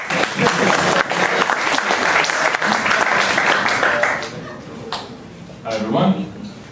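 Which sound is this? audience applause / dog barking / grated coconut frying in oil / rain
audience applause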